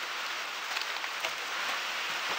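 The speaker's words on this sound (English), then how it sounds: "The rain has started again." Soft, steady rain hisses evenly in the background, a continuous wash of patter with no voices.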